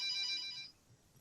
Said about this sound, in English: Sorry for my analog phone in the background.